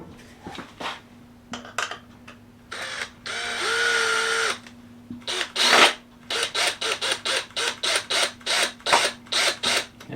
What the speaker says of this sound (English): pre-drill some holes in the back of it